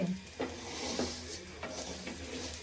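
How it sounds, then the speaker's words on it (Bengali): Rice for biryani fries in a pot with a soft, continuous sizzle, broken by the scrape and clink of a spoon stirring it several times. "এখন বিরিয়ানির জন্য চাল ভাজা হচ্ছে"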